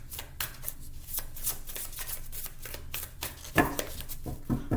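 Tarot cards shuffled by hand in a quiet room, a steady run of soft riffling flutters and slaps, with a louder burst of shuffling toward the end.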